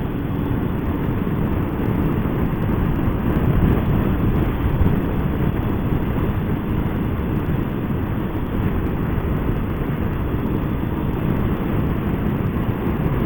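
A motorcycle rides along a Shropshire country road, its engine a steady drone buried under constant heavy wind rush against the microphone, with no break throughout.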